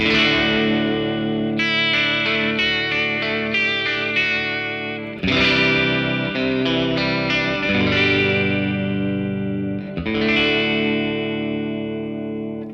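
Sustained electric guitar chords played three times through a vibrato effect set to a triangle waveform, wavering, each chord ringing and slowly fading, loud and close.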